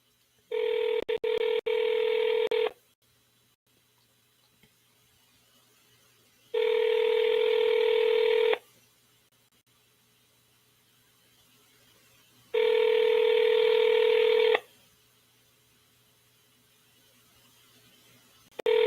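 Outgoing call to a home seller, a brief burst of dialing tones followed by three long, loud ringback tones spaced evenly with quiet gaps between, no talk.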